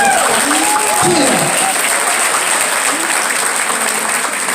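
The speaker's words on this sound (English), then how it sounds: "Let's give her a big round of applause for Cheryl Tina." Loud, steady applause from an audience fills the whole clip, dense clapping with a few shouts or cheers rising briefly near the start.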